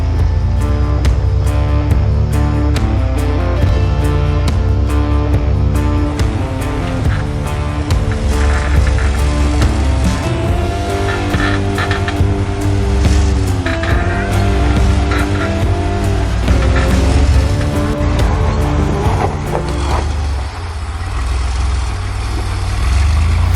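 A 4x4 rock crawler engine drones loudly and steadily nearby, a heavy low rumble that rises and falls slightly as the vehicle crawls slowly over rocks.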